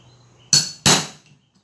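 Two hard, quick hammer strikes drive a punch into leather for handmade shoemaking, each a loud, crisp thwack close by with no talking.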